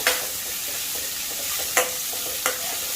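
Chicken sautéing in a pan with chopped coriander and mint leaves, a steady soft sizzle running throughout with a couple of sharp clinks from a stirring utensil near the end.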